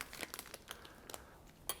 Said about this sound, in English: So we can remove our weight, which is this plastic bag.